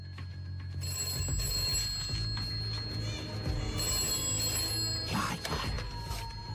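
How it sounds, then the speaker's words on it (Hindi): A telephone rings repeatedly with a steady electronic trill over a low background hum and music, fairly close and moderately loud. "जल्दी से फोन उठाओ ना।"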